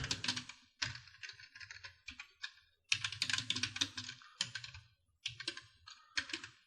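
A computer keyboard is typed on in quick, close bursts separated by short pauses as a narration for a sales entry is written in, crisp and near with no voices.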